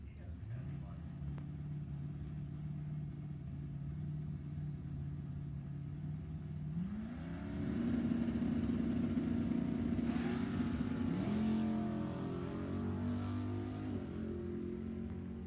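Two drag racing cars, a 1978 Camaro and a 1984 Mustang, roar and accelerate at a bracket drag strip event, a loud engine drone that rises sharply in pitch midway, with a track announcer talking over it.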